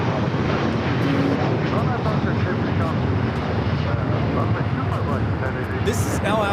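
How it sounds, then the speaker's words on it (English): Boeing 787-9 Dreamliner taking off at LAX, a loud, steady jet engine roar that holds throughout, heard from nearby with broadband rumble and no pauses. "This is LL Flight 6 taking off to Tel Aviv on the 787-9 Dreamliner."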